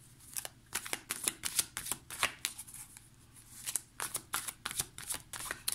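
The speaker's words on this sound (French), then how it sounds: "avec le tarot des anges, on va prendre une carte pour orienter le tirage" Angel tarot cards shuffled by hand for a reading: a quick series of crisp, close riffling bursts with short pauses between them, no voice.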